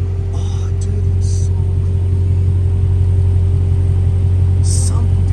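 A Dodge Hellcat Redeye engine rumbles loudly and steadily from inside the car while driving, a deep constant drone with brief higher bursts, while people talk over it.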